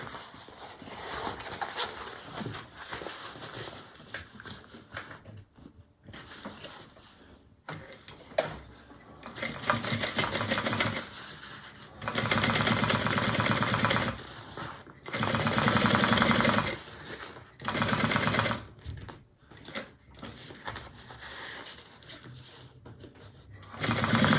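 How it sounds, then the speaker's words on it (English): Sewing machine top stitching through a bag lining panel, running in several sustained bursts with short pauses between, close and fairly loud, with mechanical clatter throughout. "we're going to top stitch through the main lining panel"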